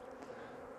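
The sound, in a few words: honeybees buzzing around an aggressive hive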